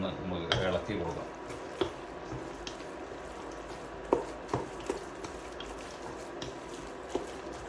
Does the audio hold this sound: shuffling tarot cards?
no